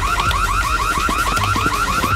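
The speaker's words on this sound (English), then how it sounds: "Why did the alarm go off?" An electronic alarm wails in a fast repeating up-sweeping siren pattern, loud and steady throughout with nothing else over it.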